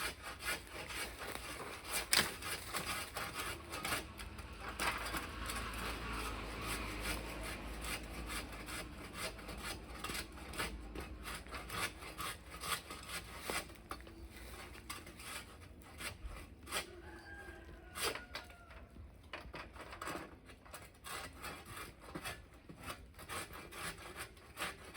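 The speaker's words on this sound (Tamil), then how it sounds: "அந்த காஞ்ச கிளையை அறுக்குறோம்" A branch-cutting tool saws through a dry tree branch in Melur, Madurai, with steady, rasping back-and-forth strokes that stay close and fairly loud, with no talk over them.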